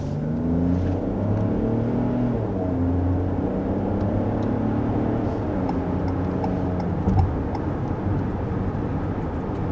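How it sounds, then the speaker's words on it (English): 2021 Ford Bronco Sport small SUV accelerating, heard from inside as a steady engine drone climbing through gears with rising and resetting tones over road rumble. "that was our first acceleration with this Bronco Sport"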